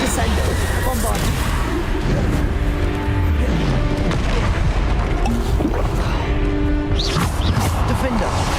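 Bombarda blast spells burst in Hogwarts Legacy, a series of heavy booms and crashes in rapid succession, layered with a shouting voice and game effects.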